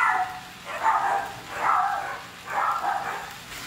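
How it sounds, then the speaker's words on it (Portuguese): Several dogs bark in repeated bursts, about four barks spaced roughly a second apart, moderately loud and somewhat distant from a home kitchen where a stew with okra, maxixe and jerked beef is being cooked. "Desculpa aí que os cachorros começaram a latir."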